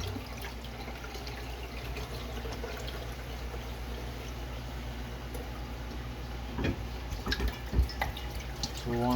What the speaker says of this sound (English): So we want to make sure we drain all the bleach water out and rinse it really well